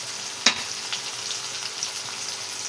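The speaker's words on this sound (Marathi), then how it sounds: "बटाटे टाकल्याच्या नंतर पुन्हा आपण एकदा मिक्स करून घेऊया" Potatoes and shredded cabbage fry and get stirred in a pan, giving a steady close sizzle with a sharp scrape of the spatula near the start and lighter stirring clicks after, no talking.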